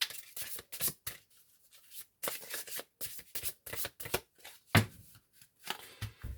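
Oracle cards are shuffled by hand in repeated quick bursts of papery riffling and slapping, close and clear, separated by short pauses, with no talking.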